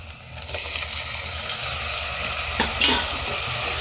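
Tomato, green chilli and curry leaves drop into hot oil in a pan for a Kerala-style country chicken curry and fry with a loud, continuous sizzle, plus a brief clatter of stirring near the end.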